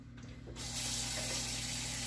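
Water is poured into a pan on the bottom of a baking oven, a brief quiet click followed by a soft, steady splashing hiss with no talk.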